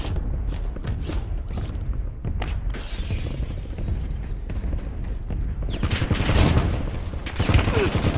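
Gunfire in the battle game Warzone: bursts of shots and sharp impact cracks, with a louder, denser stretch near the end, over steady game background noise and scattered game sounds.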